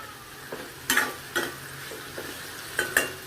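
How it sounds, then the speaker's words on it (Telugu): Thinly sliced pointed gourd and onion pieces get stirred together in a frying pan, a soft background sizzle broken by several sharp scrapes and clinks of the spatula against the pan. "ఇప్పుడు ఉల్లిపాయ ముక్కలు పొటల్స్ ముక్కలు మిక్స్ చేసేద్దాం"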